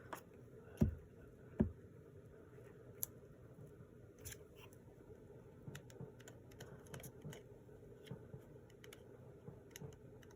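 Paper tags for a junk journal are trimmed with scissors, giving a quiet scatter of small snips and ticks, with two sharper cuts early on, in a hushed room.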